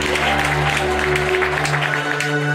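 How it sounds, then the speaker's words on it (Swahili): A congregation at a Baptist church service in Matulo claps steadily and continuously, the applause layered over sustained keyboard music. "Piga Yesu makofi."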